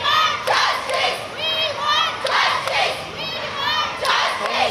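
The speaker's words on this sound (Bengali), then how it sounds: "slogan, we want justice" A large protest crowd of women and men at a night street gathering chants a justice slogan in loud rhythmic unison, the shouted phrases rising and falling in repeated waves close by.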